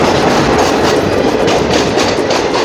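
Agartala-Karimganj DEMU train, number 75679, running along the line toward Kumarghat, a steady loud rumble with rhythmic clickety-clack of wheels over rail joints, heard from inside a carriage with no talking.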